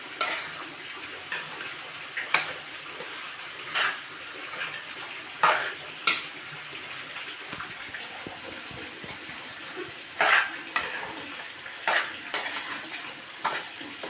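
Eggplant curry with egg and tomato being stirred in a frying pan, a spoon scraping and clinking against the metal pan in irregular taps and scrapes over a quiet background.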